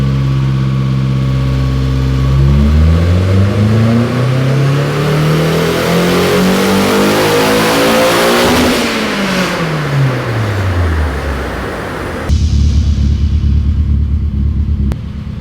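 A turbocharged BMW E30 M3 engine on a dyno revs hard and loud, the pitch climbing steadily through a long pull before dropping back, then settling into a rough, throbbing idle.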